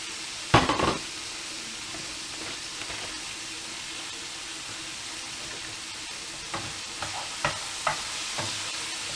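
Smoked bacon frying in oil in a pan for a carbonara, a steady soft sizzle running throughout with a sharp clatter near the start and a few light stirring knocks toward the end.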